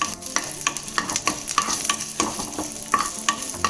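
Dried red chili, curry leaves and a pinch of asafoetida sizzle in hot oil as a tempering for coconut chutney, a steady close frying hiss broken by repeated sharp crackles and pops.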